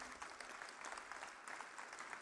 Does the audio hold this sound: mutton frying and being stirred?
no